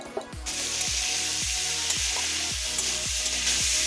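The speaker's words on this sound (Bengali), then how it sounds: "বটবটিগুলো আমি একটু নুন আর একটু অল্প হলুদ দিয়ে ভেজে নেবো" Yard-long beans fry in oil with salt and turmeric, giving a steady, close sizzle broken by regular scraping stirs about every half second.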